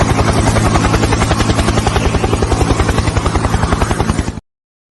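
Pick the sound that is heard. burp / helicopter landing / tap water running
helicopter landing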